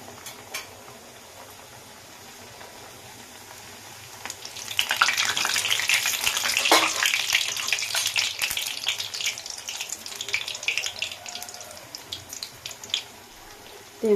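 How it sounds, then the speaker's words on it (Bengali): Homemade Bengali nimki pastries dropped two at a time into a little hot oil, the sizzle rising sharply and then holding as a loud, bubbling hiss close by, with no talking. "আমি নিমকিটা একটা একটা করে তেলে ছেড়ে দিলাম। যেহেতু অল্প তেল, আমি দুটো করে দিচ্ছি"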